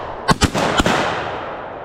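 Three loud shotgun blasts at wood ducks over a wide-open field in Georgia, two fired close together and one shortly after, each booming and then fading into an outdoor wash.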